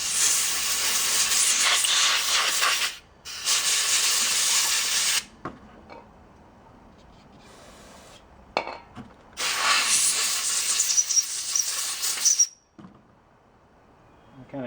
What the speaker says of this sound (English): I just hose them down with carb cleaner, blow them out with air